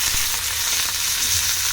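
Curry leaves hit hot oil already holding cumin and peanuts for North Karnataka pundi palya, giving a brief, dense, loud sizzle and crackle close by with faint stirring and no talking.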